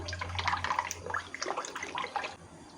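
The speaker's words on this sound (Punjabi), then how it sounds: "ਇਹਦੇ ਵਿੱਚ ਮੈਂ ਥੋੜਾ ਜਿਹਾ ਪਾਣੀ ਐਡ ਕਰਾਂਗੀ" A small amount of water trickles into thick yogurt being thinned for raita, a soft, close, uneven pouring and dripping sound with light splashes, fairly quiet with no talk.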